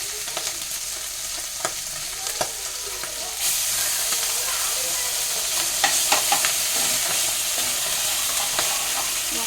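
Fish sizzles in a pan with cumin seeds and spice paste, a steady frying hiss that turns noticeably louder partway through, with scattered crackles and light stirring scrapes.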